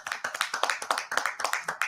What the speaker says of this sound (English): Great claps.